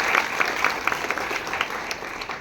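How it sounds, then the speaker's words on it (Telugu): Audience applauding loudly at a Vestige company motivational seminar, a dense wash of many hands clapping with scattered sharper claps standing out, steady and close throughout with no talk over it. "ఒకసారి గట్టిగా క్లాప్స్."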